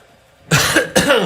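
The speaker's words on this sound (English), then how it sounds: "I'm trying to clear my throat." A man clears his throat twice in quick succession, two close, rough, gravelly bursts after a brief silence.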